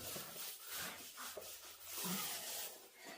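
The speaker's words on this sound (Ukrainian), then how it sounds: "Спочатку проходимо ці кути, примикання маленьким валіком." A small paint roller works a decorative coating into wall corners, a soft rhythmic rubbing and rolling with repeated strokes heard close and faint, with no talking.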